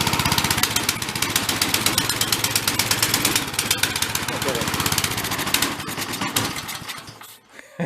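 A small carbureted engine with a dirty carb runs on a stand in a rapid, pulsing chug, revving up and staying loud and close before cutting out abruptly near the end.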